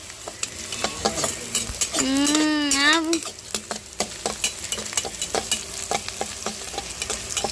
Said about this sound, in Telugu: అల్లం వెల్లుల్లి పేస్ట్ వేసేస్తున్నాం కదా ఒక బాగా కొంచెం లైట్ పచ్చివాసన పోయేదాకా బ్రౌన్ కలర్ వచ్చిన దాకా అయితే ఫ్రై చేసేసుకోవాలి